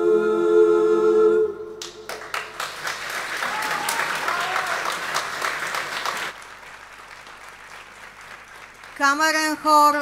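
An audience bursts into loud, continuous clapping after the chamber choir Lavirint from Zaječar, Serbia, performs at a choral concert in Pliska; the applause runs for about four seconds between stretches of sung or spoken sound.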